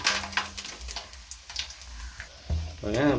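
Bay leaves hit hot oil for a vegetable biryani, giving a brief, soft crackling sizzle, and a voice speaks near the end.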